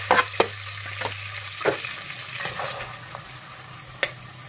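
Onion frying in oil in a pan, a soft steady sizzle with a few sharp clinks and scrapes of stirring, over a low hum.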